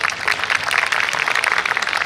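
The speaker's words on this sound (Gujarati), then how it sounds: "તાળીઓ બધાએ ઓછી પાડી હોય એવું લાગ્યું." An audience claps at a community get-together after a performance, producing a steady, dense patter of applause that is moderately loud throughout with no speech on top.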